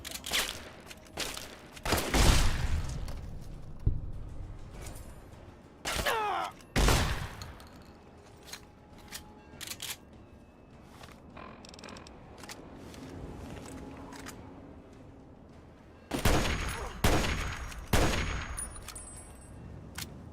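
Video game gunfire in Fallout (Tale of Two Wastelands), sharp shots in scattered bursts with quieter gaps between, then a dense volley near the end.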